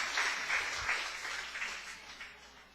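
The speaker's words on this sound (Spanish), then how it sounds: "ríndele una fuerte ofrenda de aplauso" Faint applause from a church congregation during a sermon, soft and distant clapping that gradually fades away.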